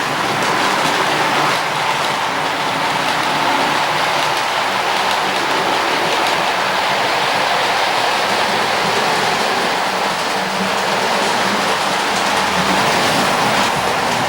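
Model railway train running on a hobby layout, a dense steady rushing rumble that holds at an even level throughout with no pauses and no talking.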